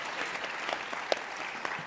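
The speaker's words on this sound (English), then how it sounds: "I want you to join me in giving a round of applause to" An audience applauds graduate student speakers at a university talks event, steady dense clapping filling the room at moderate distance with no voices over it.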